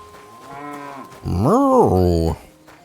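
Cattle in the video game Kingdom Come Deliverance 2 moo loudly and close by, a soft lowing call rising into a long, full bellow that then cuts off.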